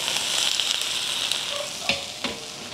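Vegetables stir-fried in a pan with light-browned garlic and ginger, a steady loud sizzle running throughout with a couple of sharper crackles and clinks toward the end.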